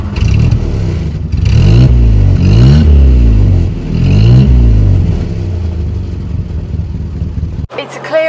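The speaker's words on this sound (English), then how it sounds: "I'm going to let you have a listen to that 1600 engine from the back" Engine of a 1960s Hillman Minx Series IIIc with its 1600 motor, heard from the rear of the car, rising and falling in a few loud revving surges over a steady mid-pitched running note, alone without talk.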